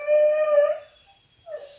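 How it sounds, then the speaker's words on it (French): A puppy gives a high, thin whimper lasting under a second, then falls quiet before a shorter second whimper, close and alone. "Ça s'appelle un bébé chien."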